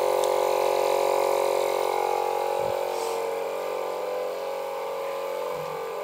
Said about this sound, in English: So it's going to pump as long it takes to explode the ball.